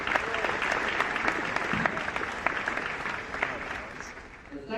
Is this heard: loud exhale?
no